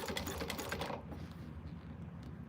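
A sewing machine runs steadily while top stitching a quilted cactus at an eighth-inch seam, its rapid needle chatter loud and close for about a second before dropping to a softer, lower hum.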